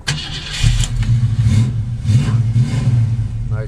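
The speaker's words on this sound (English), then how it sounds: "Nice throaty exhaust sound." A 1966 Ford Mustang coupe's 289 V8 cranks and fires, then settles into a deep, throaty idle with low rumbling exhaust pulses, close and loud.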